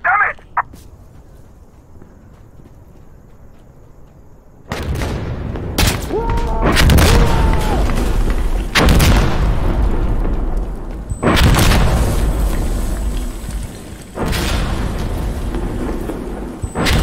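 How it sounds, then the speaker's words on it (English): Incoming mortar rounds in the video game Insurgency: Sandstorm, a series of about five heavy booming explosions arriving a few seconds apart, loud and close, each with a rumbling tail, after a quiet opening. "Mortars coming in."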